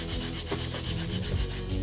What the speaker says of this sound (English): I'll go over this with the sanding paper too.